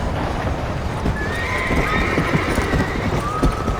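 In the Red Dead Redemption video game, a horse gives a drawn-out whinny over hoofbeats that clop irregularly close by.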